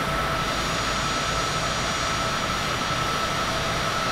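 Steady, loud roar of a Cessna Citation CJ4 jet engine at full throttle in Microsoft Flight Simulator 2020, a continuous broadband rush with no breaks.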